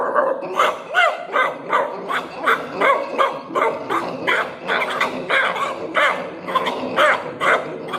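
A voice imitating a dog barks repeatedly in quick, irregular bursts, loud and close, with some yips mixed in and no talking.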